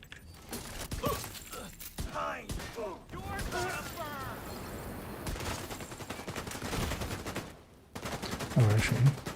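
Gunfire from a pistol in The Division 2 video game, sharp shots and bursts scattered through the clip over a busy bed of game sound, with a louder burst near the end.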